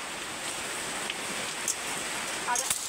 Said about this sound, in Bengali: বাইরে যে বৃষ্টি পড়ছে তার কিন্তু খুবই আওয়াজ হচ্ছে